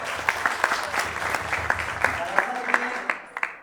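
Live audience clapping at a talk or interview event, a steady patter of many hands with sharper claps standing out near the end, continuing for several seconds.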